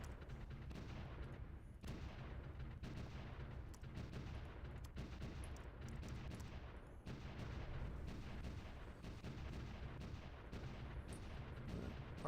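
Artillery shelling in the Supreme Ruler: The Great War video game, a dense, continuous barrage of quiet booms and cracking shots layered over a low rumble, with no voices.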